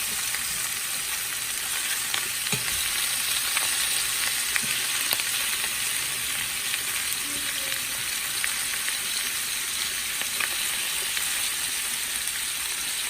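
Seafood sears in a cast iron pan over medium-high heat, giving a steady, loud, hissing sizzle that runs unbroken throughout, with a few faint clicks and no talking.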